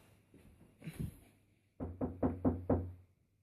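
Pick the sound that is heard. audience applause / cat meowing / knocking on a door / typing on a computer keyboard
knocking on a door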